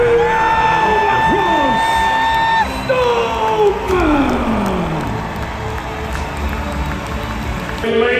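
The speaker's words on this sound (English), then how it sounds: "Give a massive round of applause for the two-time world strongest man, Tom" A large crowd at a strongman competition cheers and applauds loudly with whoops and yells, while an announcer's drawn-out voice rises over the noise.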